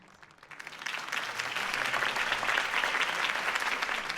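Crowd applause in the Batman Telltale Series video game, rising from a quiet start into steady, dense clapping that fills the rest of the stretch, with no voices over it.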